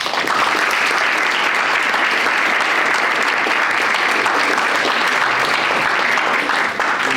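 An audience claps to welcome a speaker onstage, dense sustained applause filling the room at a loud, even level from start to finish.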